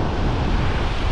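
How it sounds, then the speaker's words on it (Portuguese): Ocean waves break at the corner of a beach in Arraial do Cabo late in the afternoon, a loud continuous rush of surf mixed with wind noise on the microphone. "vamos ver se as ondas estão batendo lá no cantinho ainda"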